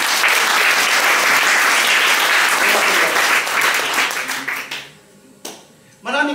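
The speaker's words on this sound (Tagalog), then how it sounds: "Isang malakas na palakpak ko." A church congregation breaks into loud, dense applause that fills the room for about four seconds, then thins out and fades to scattered claps before a voice comes back in.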